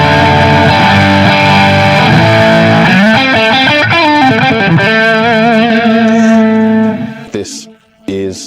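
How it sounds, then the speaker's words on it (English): Loud electric guitar with saturated distortion on the middle pickup of a PRS SE Custom 24 semi-hollow body rings out sustained chords and bends, then cuts off into a few short choppy strums near the end. "This is obviously a saturated distortion on the central pickup."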